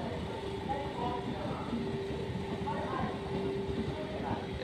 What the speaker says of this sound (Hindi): zero four one four six और दिल्ली जंक्शन प्रयागराज रक्षाबंधन स्पेशल आ चुकी है अलीगढ़ जंक्शन